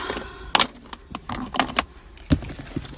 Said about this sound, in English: Got my keys.